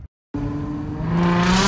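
A car with a muffler delete revs its loud exhaust after a brief silent gap, the raw engine roar swelling and rising in pitch over a second and a half.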